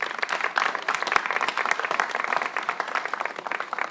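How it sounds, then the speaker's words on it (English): A seated audience at a Cambodian Heritage Month gathering in Orange County claps warmly for performers in traditional clothing, a loud, dense burst of applause sustained throughout. "Let's give them a big round of applause for that"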